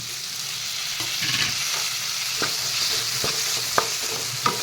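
Tomatoes fry with turmeric and fish curry spices in hot oil, a steady close sizzle broken by a few sharp spatula scrapes and taps as the pan is stirred.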